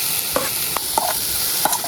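Onions frying in a pan for a dhaba-style egg masala curry give a loud, steady sizzle, with several quick scraping stirs of a spoon popping out over it.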